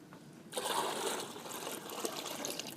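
Water pours and trickles steadily out of a bucket used for keeping guppies, starting abruptly after a brief quiet moment and continuing close by, with no talking.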